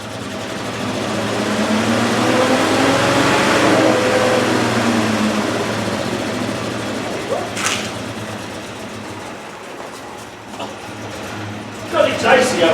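A 1969 Series 2a six-cylinder engine revs up and holds a steady drone in a shop before easing off, with a voice speaking over the engine noise.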